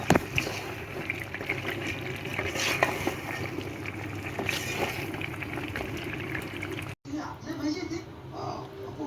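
Gravy water poured into a pot of potato and bone curry, a continuous splashing pour that stops abruptly, followed by softer bubbling.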